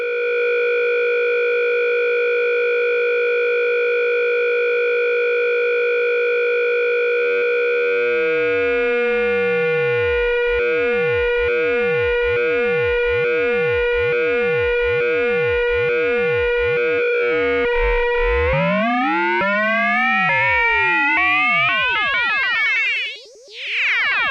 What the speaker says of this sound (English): we will take this sawtooth and we'll use it as a modulator for the modulator